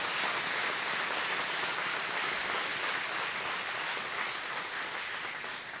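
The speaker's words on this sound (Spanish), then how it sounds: "un aplauso con gratitud por todos" A congregation at a trilingual Easter Vigil Mass applauds in gratitude, giving a dense, continuous wash of many hands clapping at an even level from start to finish.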